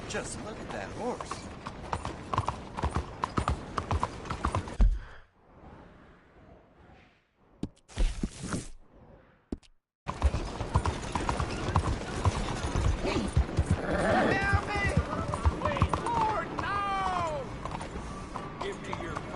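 Horse hooves clip-clop at a steady pace under the voices of people talking in the video game Red Dead Redemption 2. A short quiet stretch is followed by more hoofbeats and some clatter.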